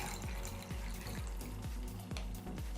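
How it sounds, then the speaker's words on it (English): Water pours steadily into the reservoir container of a wick-watered African violet, a continuous close splashing trickle with a faint rhythmic low thumping underneath. "I just pour in some water."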